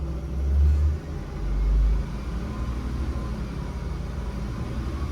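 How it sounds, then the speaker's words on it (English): Air-braked bus engine restarting to rebuild brake pressure, a deep rumbling idle with two heavier low surges early on before settling into a steady, even drone. "we're going to restart our bus and build pressure back up"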